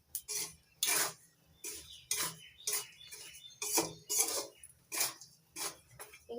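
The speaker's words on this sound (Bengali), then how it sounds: "ছোলাগুলো ফাটতে শুরু করেছে। এবার অনবরত নাড়াচাড়া করে নিতে হবে।" Chickpeas roast dry in a pan, stirred continuously, with sharp repeated clattering scrapes and pops in a quick, irregular rhythm, close and fairly loud.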